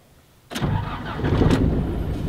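A camper van engine cranks and catches after a short quiet moment, then settles into a steady, close idle.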